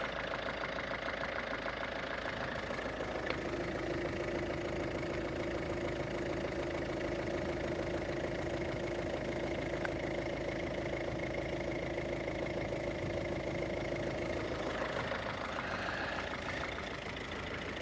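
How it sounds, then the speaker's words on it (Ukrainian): A diesel engine of a 2020 Peugeot 5008 1.5 HDi idles steadily and close by, a constant low rumble with a faint mechanical ticking, running alone without voices. "Двигун робить чистенько."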